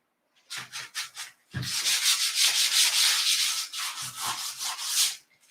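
Sanding of a wooden base, heard alone: a few short rasping strokes, then a long continuous scrubbing run of close, loud abrasive rubbing that pulses back and forth steadily.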